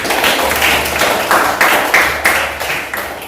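An audience in a classroom or lecture setting claps together, a steady wash of claps with a few louder swells, close and even throughout, with no talking.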